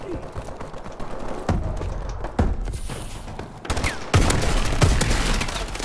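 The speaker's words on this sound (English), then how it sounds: "Two shotgun blasts to the chest." Shotgun fire in the video game Call of Duty: Advanced Warfare on the Riot map: repeated loud blasts and bursts of gunfire with mechanical clatter, dense and close, in an ongoing firefight.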